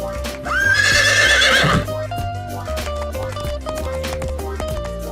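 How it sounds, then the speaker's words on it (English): A horse whinnies loudly for about a second, a shrill rising neigh over a backdrop of steady game music. "Hey, I recognize that horse."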